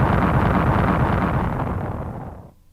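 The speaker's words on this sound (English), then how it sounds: "Suddenly, there was a terrific explosion, and all 3 of them dived to the ground." A terrific explosion as a sound effect in an audio story, a loud, broad roaring blast that rumbles on and slowly fades away before cutting to silence.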